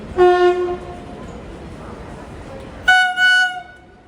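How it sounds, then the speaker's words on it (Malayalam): A loud train horn blares twice, a long blast then another after a pause, over the rumble of the Gatimaan Express, hauled by a WAP-5 electric locomotive, rolling into a station platform. "7:47 ഗതിമാൻ എക്സ്പ്രസ് ഇതാ പ്ലാറ്റ്ഫോം നമ്പർ 4ലേക്ക് കടന്നു വരികയാണ്."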